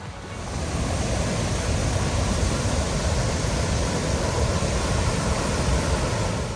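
Steady, dense roar of rushing water from Goðafoss waterfall in northern Iceland, broadband and continuous throughout, with no voices.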